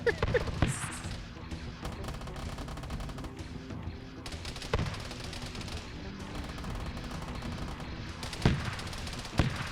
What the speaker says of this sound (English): it's shooting at paratroopers